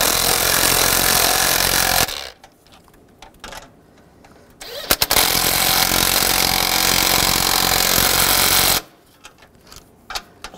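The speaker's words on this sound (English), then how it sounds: "Just go around, try to tighten them down evenly." Power tool tightening water pump bolts on a 2010-2017 Chevrolet Equinox, running loud and steady in two long bursts separated by a quieter pause.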